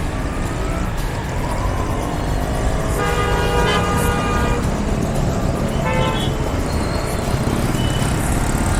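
Road traffic congested by metro construction rumbles steadily while car horns toot nearby, with one long honk and a couple of shorter beeps over the constant engine and road noise.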